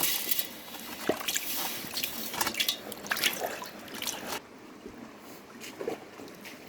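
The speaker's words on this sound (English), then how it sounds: "I'm going to tip this into my garret pan." Sediment and water tip into a gold pan, spilling and trickling in a splashy, dripping stream for several seconds before easing into quieter drips.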